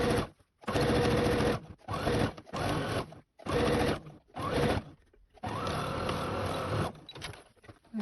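A sewing machine stitches sections of a round floor cushion's fabric front in several bursts, each a loud steady whir that starts and stops with short pauses between, the last run the longest, heard up close with no talk.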